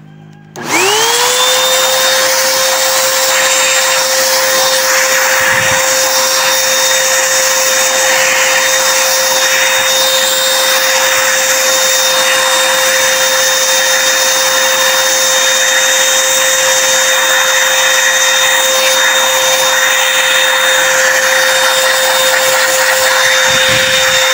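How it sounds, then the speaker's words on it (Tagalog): An electric blower drying out an X Bass FM/AM radio spins up and holds a loud, steady, high whine for more than twenty seconds, with a constant tonal hum underneath and no pauses. "ang gagawin natin dyan para matuyo siya, blower natin."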